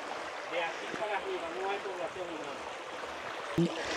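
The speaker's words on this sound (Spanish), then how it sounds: "Aquí que nace el río Sosúa" Water flowing at the source of the Sosúa river, a constant soft rushing wash in the background with a few faint voices over it and a short knock near the end.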